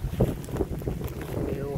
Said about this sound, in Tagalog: Pero hangin kaayo.